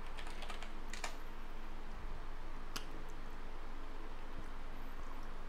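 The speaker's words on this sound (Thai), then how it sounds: "พอพิมพ์คำว่าอาหารไปปุ๊บเนี่ยเขาจะเซิร์ชหาเลยครับผม" Computer keyboard typing comes through as quick, close clicks, dense at first and then sparser, over a constant low background noise.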